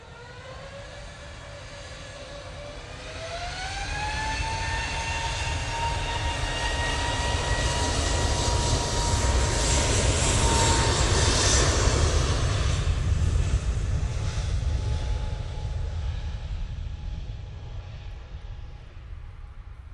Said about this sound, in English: Just coming in now. Using their A220 today